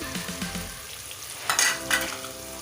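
Onions and tomatoes sizzling in a hot pan with red chilli, turmeric and other spices, a steady close frying crackle with a few sharper clinks as the mixture is stirred.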